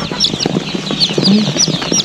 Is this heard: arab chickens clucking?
yes